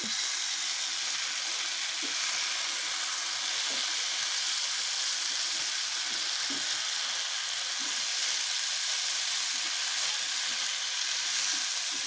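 Ground pepper and green chilli mixture with curry leaves frying in a pan, a steady close hiss of sizzling oil throughout with faint crackles and no talk.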